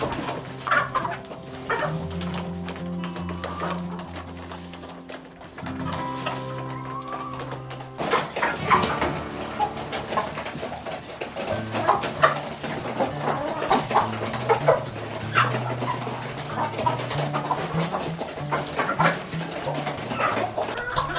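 Chickens in a coop cluck and murmur continuously, several birds close by with scattered sharper calls over a busy background of shuffling.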